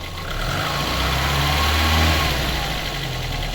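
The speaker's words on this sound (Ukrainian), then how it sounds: "двигун вже в принципі прогрівся" A VAZ-2101 car engine, warmed up, idles in a steady, even hum with a low rumble, close by and constant, with no speech.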